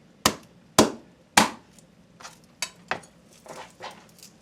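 Knife chopping collard greens on a cutting board, with about eight separate sharp, close chops: three strong evenly spaced strokes, then several lighter ones, each ringing briefly off the board.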